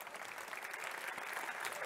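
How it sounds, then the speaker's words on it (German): Steady, dense applause from a lecture audience in Frankfurt welcoming a speaker, a continuous wash of many hands clapping at moderate distance and fairly quiet. "Applaus"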